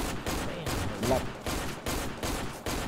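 Gunfire in Left 4 Dead 2, a rapid series of repeated shots in regular bursts throughout, fairly steady and moderately loud, with faint background noise.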